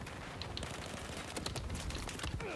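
A U100 machine gun fires in the video game Battlefield 4, a rapid, continuous burst of rattling shots heard somewhat distant under a busy battle background.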